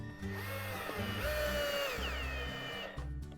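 Corded power drill driving screws into a wooden box on a table, a steady whining motor that revs up and winds down over a few seconds, close and loud.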